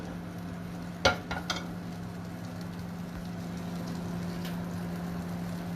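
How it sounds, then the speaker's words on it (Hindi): Butter melts in a pan with a faint, steady sizzle and a low hum, broken early by a few sharp clinks of a utensil against the pan. "जैसे ही हमारा ये बटर मेल्ट होता है"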